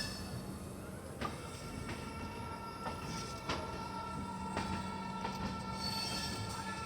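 The 15127 Kashi Vishwanath Express, bound for Delhi, rumbles on the rails in a steady wash of noise, with wheel and coupling knocks coming through at irregular intervals and a faint high squeal over the run.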